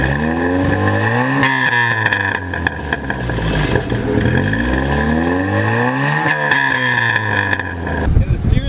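A 1977 Fiat 124 Spider engine drones steadily while driving, rising and falling in pitch through gear changes, with people talking over it throughout.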